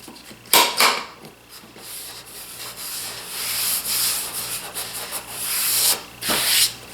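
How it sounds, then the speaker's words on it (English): Wooden box pieces being sanded by hand with rough, rasping strokes, several close rubbing passes with short pauses and a couple of sharper knocks of wood, with no talking. "Got these sanded down."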